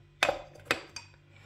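Spoons from an online order of glass and wooden kitchenware clink during unpacking, with two or three light metallic taps close by.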